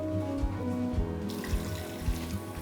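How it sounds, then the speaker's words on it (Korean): Salted young chonggak radishes rinsed under a steadily running kitchen tap, with water splashing into the sink and soft, irregular thuds as the radishes are handled, with no one talking. "이제 총각무는 물에 한번 헹궈서 건져서 물기 뺄게요."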